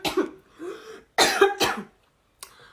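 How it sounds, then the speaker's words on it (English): A person coughs three times close to the mic: two rough, throaty bursts within the first second, a louder pair of hacks around the middle, then a short final cough after a pause. "I know I coughed into my mouth."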